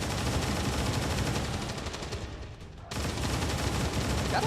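Rapid gunfire from the video game Long War 2 forms a dense, continuous, loud barrage that dips briefly and then resumes at full intensity.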